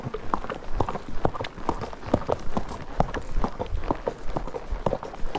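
Horses' hooves clip-clop steadily over a rocky, boulder-strewn canyon trail among oak, pinyon and mesquite, a dense run of sharp, close knocks in an irregular walking rhythm with no voices.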